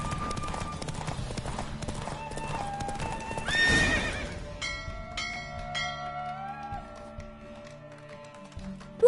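Hooves clip-clop in a galloping rhythm during a horse race in The Witcher 3: Wild Hunt, then a horse neighs loudly partway through, followed by a quieter trot with bell-like tones.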